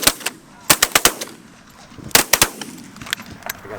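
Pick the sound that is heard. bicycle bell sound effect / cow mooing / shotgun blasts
shotgun blasts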